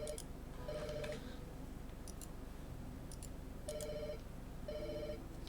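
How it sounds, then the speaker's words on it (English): Electronic telephone ringtone sounding in short repeated bursts over a steady background hum during a livestream, with a tick-like clicking pattern. "Now the phone is ringing."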